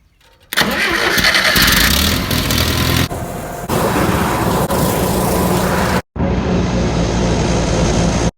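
An old tractor engine, out of gas, cranks and roars to life, running loud and rough nearby, briefly cutting out before revving again.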